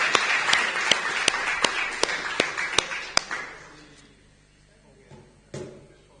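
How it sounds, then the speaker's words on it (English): A small Bible school group claps in an evenly spaced, crisp rhythm for about three seconds, then the clapping dies away into a quiet room with one later thump. "Give James a clap."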